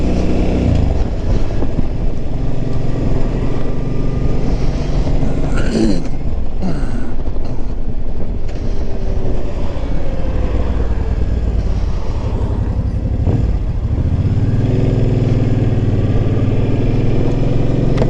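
A motorcycle rides down a road with a steady, loud engine drone and rushing wind noise, briefly rising and falling in pitch as the bike changes speed.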